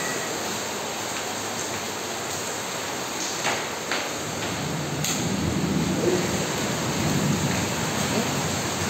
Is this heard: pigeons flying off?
no